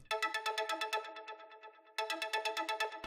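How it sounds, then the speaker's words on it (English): High, bright synth notes in a techno track, like birdsong: a fast run of evenly spaced plucked tones that thins out, stops briefly, then returns at full strength. "I'm using higher notes to get this almost like a bird sound"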